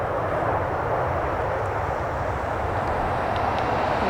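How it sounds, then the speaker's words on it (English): An Emirates airliner rolls along the runway at Manchester Airport, giving off a steady, broad jet roar that holds at an even level for the whole stretch, with no voices over it. "So the Emirates is nearly on runway now."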